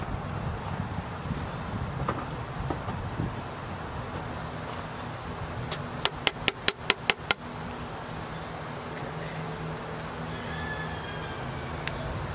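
A metal part on a Yamaha 200 outboard being serviced is tapped in a quick run of about six sharp, ringing clinks, close, amid low workshop background noise.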